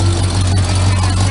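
A 1972 442 with a 455 big block engine and trumpet exhaust idles nearby with a deep, steady low rumble, while someone talks over it.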